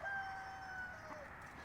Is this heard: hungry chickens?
yes